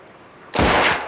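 A single loud gunshot in the video game Melon Playground hits after a quiet moment, a sharp close blast whose noisy tail fades out over half a second.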